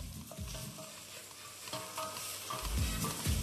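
Chopped onion sizzles steadily in a frying pan while a utensil stirs and scrapes through it, with soft, irregular clacks and shuffles over the constant hiss, close and moderately loud, with no talking.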